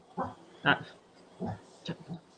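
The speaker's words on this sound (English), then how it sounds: "He's barking." A dog barks in a handful of short, separate bursts spread irregularly across a couple of seconds, moderately close and without talk over it.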